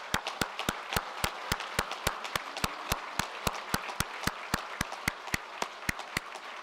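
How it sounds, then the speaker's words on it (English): Handclaps at a virtual engineering school graduation ceremony come as an evenly spaced, metronome-like run of sharp claps, moderately loud and steady throughout with no voices. "I think they deserve a huge round of applause."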